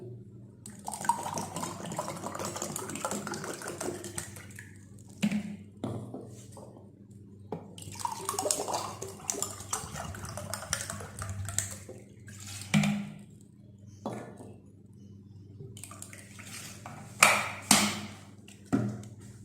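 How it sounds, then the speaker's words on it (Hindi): Water pours in several short bursts, splashing and trickling into a glass of tamarind and plum sharbat with brief quiet gaps between pours. "और ऊपर से पानी ऐड कर लें।"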